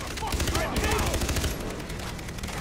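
Gunfire in the video game Far Cry 3 comes as a short, loud burst of rapid overlapping shots, sharp and close, then fades into a rumbling tail.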